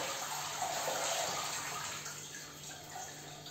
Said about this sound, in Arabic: البطاطا هذه حطتها في الماء بارد جدا، اقوم بتصفيتها من هذا الماء